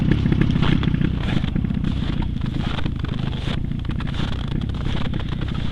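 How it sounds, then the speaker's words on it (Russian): Snowmobiles warming up on a cold morning in Yakutia during a fishing tour, with one machine's engine idling in a steady, loud, close, low rumble that carries light clattering throughout and no talk. "Сегодня разогрев снегоходов с утра."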